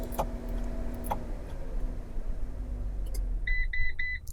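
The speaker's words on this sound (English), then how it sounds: "To deactivate the system, simply press the top unlock button on your key fob 3 times." A Travato RV's Pure 3 auto-start system answers the key fob's unlock button with three short, evenly spaced electronic beeps near the end, after a few faint clicks over low idling rumble.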